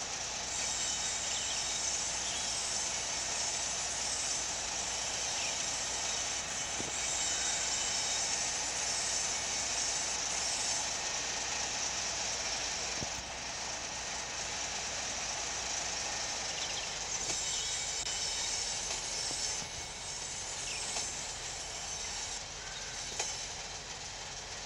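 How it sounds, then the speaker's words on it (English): A Washington and Western freight locomotive in the Train Sim Pro video game rumbles along steadily with rolling wheel and rail noise, a constant loud drone of wagons clicking over track joints throughout. "We just used our one Washington and Western locomotive."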